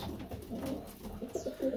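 A pigeon suffering from a respiratory illness coos softly and repeatedly at close range, with a low, throaty, slightly rough tone and no other voices.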